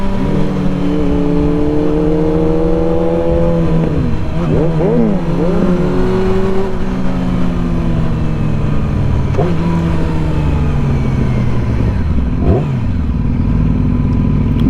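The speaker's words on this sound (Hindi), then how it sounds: "रेव मैचिंग" A 2019 Suzuki Hayabusa and a 2019 Yamaha R6 sport motorcycle rev matching on an evening ride, engines loud and close, climbing and falling in pitch through repeated revs and downshift blips.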